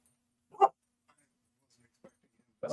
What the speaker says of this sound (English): I just had a horde of dogs walk into my room.